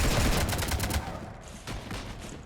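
Rapid gunfire bursts in the Mass Effect 3 Legendary Edition Citadel DLC battle, dense crackling volleys loud at first, then thinning into scattered shots under game ambience.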